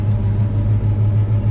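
A 1964 Chevrolet Malibu Chevelle engine running with an exhaust leak, giving a loud, close, steady low rumble with a faint rhythmic pulsing tick in the exhaust note.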